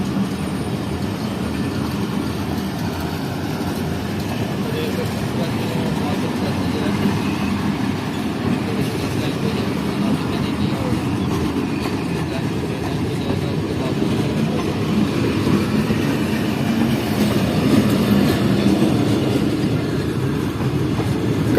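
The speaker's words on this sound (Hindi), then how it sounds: "ट्रेन लूप लाइन पर ही अच्छी स्पीड में आ चुकी है।" High-speed train Z06355 running at speed on a loop line through a forest, a loud, steady rolling rumble with faint wheel clatter that holds for the whole stretch.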